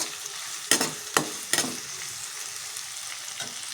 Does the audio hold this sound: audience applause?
no